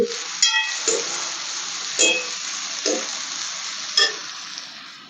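Tomatoes, onions and green chillies fry for a masala with a steady sizzle, broken by several sharp stirring scrapes at intervals; close and moderately loud with no talk.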